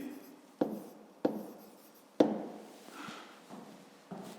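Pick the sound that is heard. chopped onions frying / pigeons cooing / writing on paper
writing on paper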